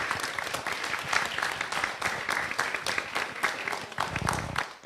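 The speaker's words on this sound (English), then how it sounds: "Let's give them a round of applause." Audience at an evening book talk claps warmly and continuously for the author and host, a dense, sustained round of applause with a few louder bursts and some crowd murmur near the end.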